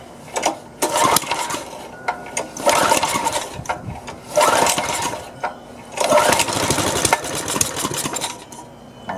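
A Craftsman reel mower's small engine cranks in repeated bursts, each pull sputtering and catching briefly before dying off, four or five loud close attempts separated by short pauses.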